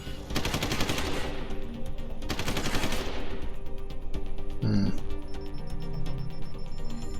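Rapid automatic gunfire from the game Deus Ex: Human Revolution rattles in two loud bursts, each lasting about a second, followed by a few sharp electronic beeps and tones.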